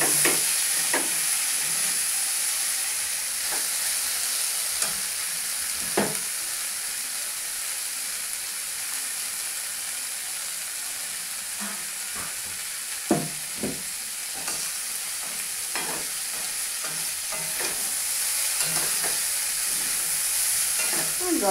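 Tarka dal frying in a pan with a constant hissing sizzle, while a spoon stirs and scrapes in irregular clusters of strokes; close and steady, no talk heard.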